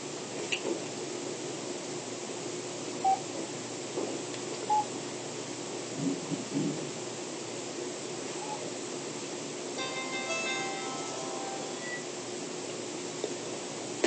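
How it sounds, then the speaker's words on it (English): A telephone goes off during a classroom lecture, sounding a short burst of electronic tones over the steady hum of the room, alongside a few faint knocks and taps. "sometimes the phone goes on at the wrong time, so I had to turn it off"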